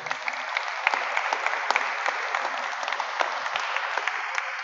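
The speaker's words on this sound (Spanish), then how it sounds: "Demos un aplauso, por favor." A church congregation applauds steadily with dense overlapping claps and a few sharper individual hits standing out, close and sustained throughout.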